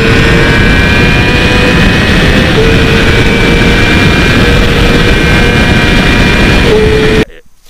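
A sportbike engine with a quick shifter screams hard and loud at high revs, its steady whine holding through seamless shifts before cutting off abruptly near the end.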